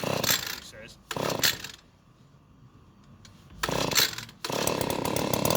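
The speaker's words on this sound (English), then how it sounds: "He's going to get the petrol blower going." A petrol leaf blower roars loudly in bursts, cutting out for a couple of seconds of quiet between them, close by with no talk.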